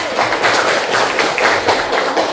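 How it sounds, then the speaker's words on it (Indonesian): A classroom group claps for group 1 before they present, a dense, steady patter of many hands sustained throughout at moderate loudness. "tepuk tangan dulu buat kelompok 1"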